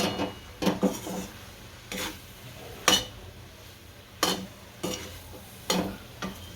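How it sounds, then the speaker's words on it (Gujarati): A spoon scrapes and stirs masala bread pieces with spices in a pan, in intermittent scraping strokes about once a second over a soft, steady sizzle, with no talk. "હવે આપણે આ બ્રેડ નાખશું। આને હલાવી નાખશું હાલા।"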